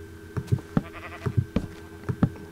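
Sheep and goat bleating in the Minecraft video game, a quick series of short nasal bleats in close succession, fairly near and clear with no talk.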